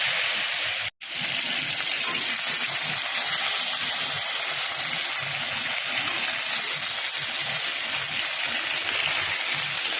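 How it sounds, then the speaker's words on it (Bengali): Potatoes frying in a pan of hot oil for a Bengali fish curry, a steady, loud, dense sizzle that continues throughout with one brief cut near the start. "এখন আলু ভাজবো।"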